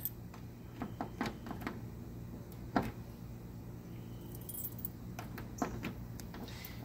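A bunch of keys jangles and clinks while someone hunts for the right key to a Coleman camper, scattered metallic rattles and ticks over a low steady background hum.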